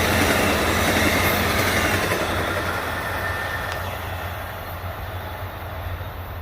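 A Santa Fe Warbonnet 683 train passes during a thunderstorm, a loud continuous rushing roar of wheels and cars that slowly fades as it moves away.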